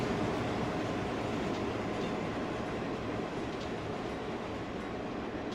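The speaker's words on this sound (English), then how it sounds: "That's quite a long train if it's still going." A long freight train in Train Simulator 2014 rumbles past steadily, a dense continuous roar of rolling wheels and rail noise at moderate volume, without pause.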